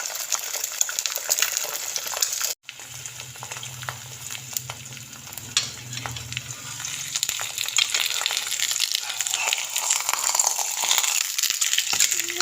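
Eggs frying in a pan for anda paratha, steady crackling sizzle running continuously, close and even, with a brief cutout early on and occasional small clinks of utensils.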